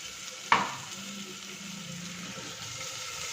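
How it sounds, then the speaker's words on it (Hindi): Ground tomato hitting a hot pan of fried masala, a sharp splash-like hiss at the start that settles into a quiet, steady sizzle, close and alone with no talk. "अब मैं इसमें टमाटर डालती हूँ"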